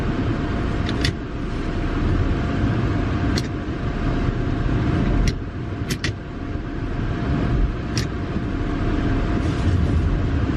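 A rear-wheel-drive car stuck in about eight inches of deep snow, its engine droning loudly and steadily at high revs with brief dips, close to the microphone, no speech.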